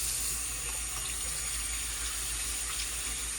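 Silver jewelry is rinsed under a running tap, giving a steady, close hiss of flowing water with no break for a few seconds and no talking.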